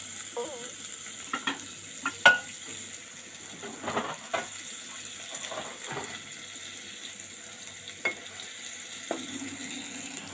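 Onion and tomato, two kinds of tomato, fry in a pan with a steady sizzle, broken by scattered clinks and scraping stirs at irregular moments and a faint running-water hiss in the background.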